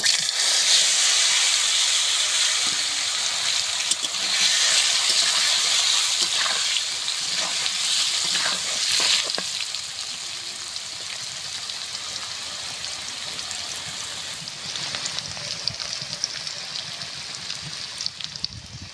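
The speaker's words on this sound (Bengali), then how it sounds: "তেলের ভেতর দিয়ে দেবো লবণ, হলুদ গুঁড়ো, আলু দিয়ে ভেজে নেব।" Potatoes frying in oil with salt and turmeric give off a steady, bright sizzle and hiss, loud at first and easing a little midway, with scattered crackles and a few scraping touches throughout.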